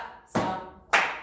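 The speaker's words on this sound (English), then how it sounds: "Stomp, clap, stomp, clap." Two sharp claps, evenly spaced, ring out close and clear during line dance steps, each with a short bright decay and no talking.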